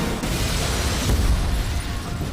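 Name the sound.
film explosions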